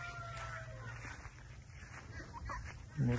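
Chickens in a trailer coop in a Florida yard cluck faintly amid outdoor ambience, with a louder burst of fowl calls at the very end.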